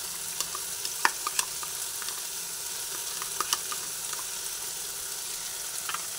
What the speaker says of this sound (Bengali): এরপর এর মধ্যে এই টক দই আর মরিচটা দিয়ে যে রেডি করলাম সেটা এর মধ্যে ঢেলে দিচ্ছি।